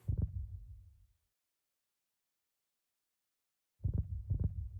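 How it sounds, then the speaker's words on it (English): Low, muffled heartbeat thuds from the Heart of the Deep in an All the Mods 9 Minecraft modpack world: a close, deep throbbing burst, a gap of near silence, then the pulsing returns. "That always freaks me out, the fact that you can hear the heartbeat still. It's just from the heart of the deep"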